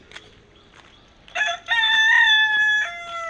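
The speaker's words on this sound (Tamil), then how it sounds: "கோழி கூவுது." A rooster crows loudly and nearby, a long drawn-out call rising then trailing off, after a few faint clucks and quiet background noise.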